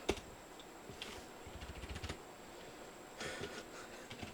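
Typing on a computer keyboard, quiet and close, with a few scattered clicks early on, a denser run of keystrokes around the middle, and another brief burst near the end over a faint steady hum.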